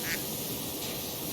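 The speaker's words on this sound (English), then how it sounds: "got a quack" A brief cartoon duck quack from a video game, heard once near the start, faint and thin over a steady bed of background noise.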